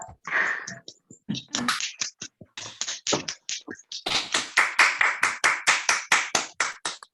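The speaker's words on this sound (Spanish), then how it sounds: "Podemos aplaudir con micrófono" A group claps together, the applause picked up by microphones and coming through amplified, turning into a fast, steady rhythmic beat of sharp claps.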